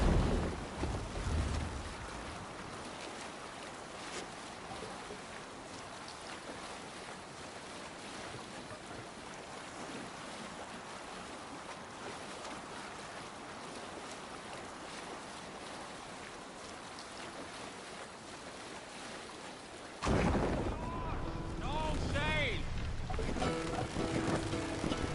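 A Viking longship sails over open sea in Assassin's Creed Valhalla, with steady wind and rolling waves washing against the hull, a brief louder gust at the start and a sharper splashing burst near the end.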